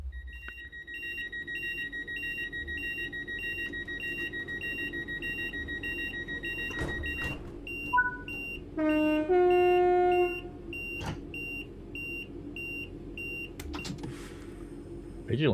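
Train vigilance alarm in a train simulator game, heard as a regular, repeating electronic beep tone, joined by a few other brief tones and a short run of stepped beeps; faint, with quiet background hum.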